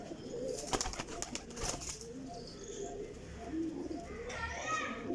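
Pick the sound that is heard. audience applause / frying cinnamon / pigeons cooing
pigeons cooing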